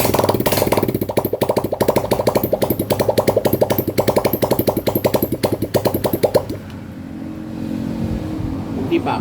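A dirty-carburetor small engine, run outside its body, chugs in quick uneven pulses that sound rough and misfiring for several seconds, then drops out and leaves a lower, quieter hum.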